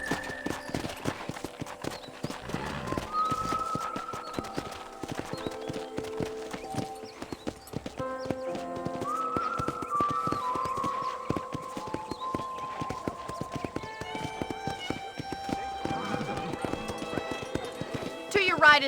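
Horse hooves clip-clopping at a steady walking rhythm during a ranch tour in the video game Red Dead Redemption, with music, people talking and an occasional whinny over the hoofbeats.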